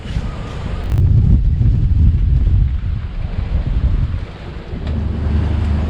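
Strong wind of around 30 knots, gusting to 35, buffets the microphone in sustained gusts at sea off Fulaga, Fiji, with a broad roar of sea and surf beneath, no voices.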